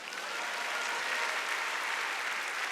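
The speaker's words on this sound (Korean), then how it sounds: "아는 사람만 박수 쳐보세요." A church congregation at a Sunday worship service claps together in a full, even burst of applause that fills the whole moment at steady loudness, with no voices over it.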